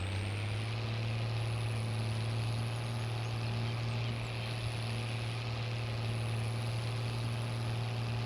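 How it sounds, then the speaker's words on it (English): A 200 horsepower tractor engine in Farming Simulator 22 drones steadily under load, a loud low hum with constant harmonics running throughout and no talk. "I need to see if I actually got the 200 horsepower version of this tractor when I redid the map, because it's not pulling like it should."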